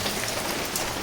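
Steady rain falls and patters on surfaces in an even, dense hiss with no voices over it.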